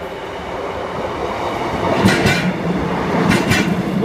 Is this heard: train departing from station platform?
yes